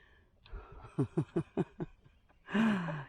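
A quick run of about five short, rhythmic clucks from a chicken, then a louder, drawn-out squawking call.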